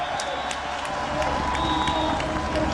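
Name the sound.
velodrome crowd welcoming Paris-Roubaix cyclists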